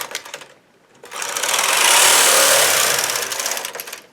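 A knitting machine carriage pushed across heavy yarn gives a loud, sustained mechanical whirring rasp, a short pass, a pause, then a longer steady pass lasting about three seconds.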